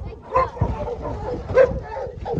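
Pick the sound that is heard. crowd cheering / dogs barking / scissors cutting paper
dogs barking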